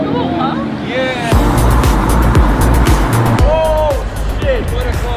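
A Lamborghini Terzo Millennio concept car drives loudly and close by, its engine roaring with rising and falling pitch sweeps over a steady rumble, as voices talk and cheer underneath.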